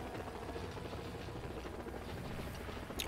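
Helicopter rotor and engine drone from the Renegade Ops video game, a steady continuous whir held at moderate level throughout with a brief sharper burst near the end.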